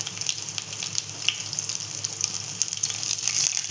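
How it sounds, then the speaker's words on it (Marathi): Finely chopped garlic fries in hot oil for a Marathi moong dal amti, giving a close, steady crackling sizzle with small popping bursts throughout. "मग आपण टाकूया लसूण,"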